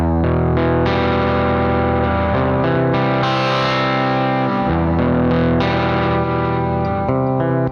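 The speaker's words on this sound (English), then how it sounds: "You can just bring that distortion in nice and subtly." An electric guitar runs through a Nembrini Jazz Chorus amp simulator app on iOS with distortion added, playing sustained chords and notes loudly and continuously, with a slightly gritty, effected tone.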